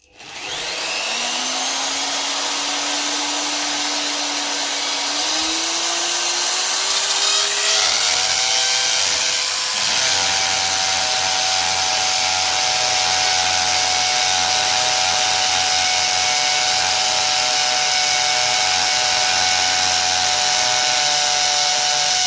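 A drill bores a hole through a wall for an extractor fan, a loud sustained whine that rises in pitch as it spins up, then holds steady with grinding texture, alone without talk.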